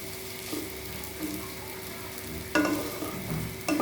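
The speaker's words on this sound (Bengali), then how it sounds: "সাবুটাকে হালকা হাতে ভালো করে মিক্স করে নিতে হবে" Sago pearls being stirred gently in a pan for sabu polao, a soft sizzle with light scraping strokes of a spoon that grow louder and busier toward the end.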